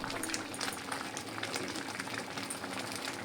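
Semai vermicelli simmering in plenty of milk in a pot on a gas stove, a soft continuous bubbling and popping, close and fairly quiet, with no voices.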